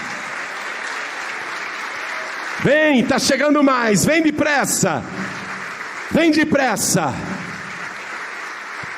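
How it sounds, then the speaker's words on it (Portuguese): A church congregation applauds during a sermon, a continuous bed of clapping under a preacher's loud, emphatic voice speaking in bursts over it. "Oh glória, vamos aplaudir mais."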